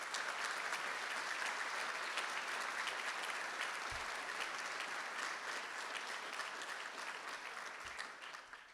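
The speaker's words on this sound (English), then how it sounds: "Please give them a round of applause as well." Sustained audience applause fills a dedication dinner for the Stanley Center's new home building, a dense steady roar of clapping that holds for the whole span and eases slightly near the end.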